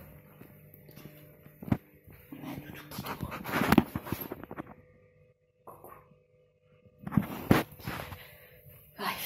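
A dog indoors pants and snorts in quick, uneven bursts, with a few louder close breaths and pauses of near silence between spells.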